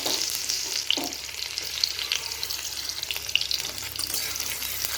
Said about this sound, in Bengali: তেলটা গরম হয়ে গেছে, আমি পেঁয়াজগুলো দিয়ে দেব।